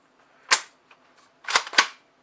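A magazine being loaded into a long airsoft shotgun makes a sharp plastic snap, followed a moment later by a couple of quick clacks and rattles as it seats, close and clear against a quiet garden background.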